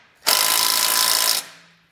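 A power tool drives a 9/16 socket to snug down nuts while installing a Roadmaster Direct-Connect base plate kit on a 2023 vehicle; one loud, steady whirring burst of just over a second, starting and stopping abruptly, with no talking.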